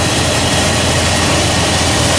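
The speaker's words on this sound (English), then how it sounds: "So as you can see, the engine is running." A Jeep Grand Cherokee engine idles steadily after an alternator replacement, a loud, even, low rumble close by with no change in pace and no talk over it.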